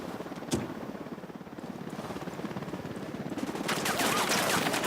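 Sniper gunfire in the video game Ghost Recon Wildlands: a single sharp shot cracks early, followed by a steady rumbling game ambience that swells louder toward the end.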